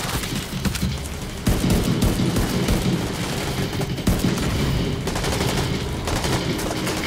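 Sustained minigun fire in The Division 2, a dense continuous roar of rapid shots that swells louder partway through, with booming impacts mixed in and no talk.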